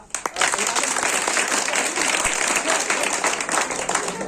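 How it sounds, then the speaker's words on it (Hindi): Loud, dense applause from a large crowd at a school campus event, sustained steadily throughout with no pauses. "हम अनिल सर के लिए चाहेंगे कि पुनः इनके अभिवादन में जोरदार ताली से इनका"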